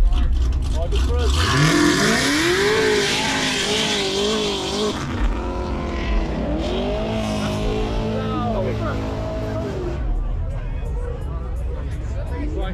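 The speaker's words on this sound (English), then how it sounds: "That was the loudest fucking car ever." A very loud car drives past at a Cars & Coffee meet in Miami, its roaring engine building and sweeping by close up amid crowd chatter and shouting voices.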